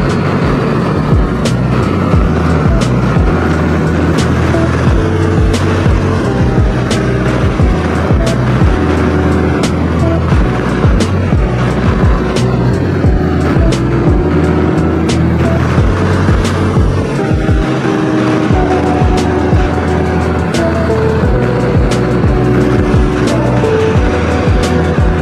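A motorcycle ridden along curvy roads toward Montella, a loud continuous engine drone with shifting pitch as it accelerates and eases through bends, steady wind and road noise throughout.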